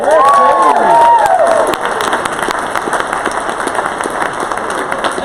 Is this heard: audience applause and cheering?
yes